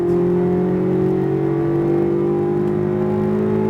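Corvette Z06 engine at full throttle on a race track, a loud sustained roar with a steady, slowly rising pitch, close and uninterrupted.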